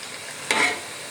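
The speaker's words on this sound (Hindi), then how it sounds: "अभी हम पकोड़े बना रहे हैं। हल्की हल्की आंच पे बनाने हैं" Chicken pakoras frying in oil over low heat, a single short burst of sizzling and stirring that rises and fades within a fraction of a second, nearby and fairly loud, with no talking.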